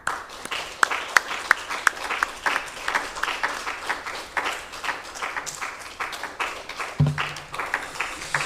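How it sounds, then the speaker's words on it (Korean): A church congregation applauds to welcome the pastor at a Friday service, a sustained patter of many hands with sharper individual claps early on and a brief voice near the end. "우리 존경하는 마음으로 우리 박수로 환영하며"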